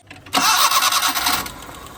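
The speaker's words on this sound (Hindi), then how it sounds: "इंजन में मिसिंग है और एक टक टक टक टक की आवाज भी आपको सुनाई दे रही है" A petrol car engine with a misfire and lost pickup turns over and runs roughly, its uneven note carrying a faint knocking over about a second and a half before settling lower.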